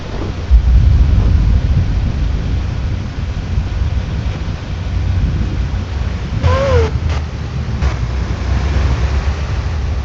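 A thunderstorm in the storm-chasing video game Twisted rumbles with low, steady thunder and rain-like hiss, a continuous dense roar with a faint tonal chirp partway through and no speech.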